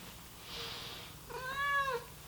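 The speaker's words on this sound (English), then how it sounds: "So there's an annoying cat and he has returned." A cat meows once, a clear rising-and-falling cry near the end that follows a soft breathy sound, fairly close, with no talking.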